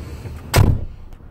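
A door on a brand-new MAN truck cab gives a single solid thud, close and fairly loud, with quiet room tone before and after.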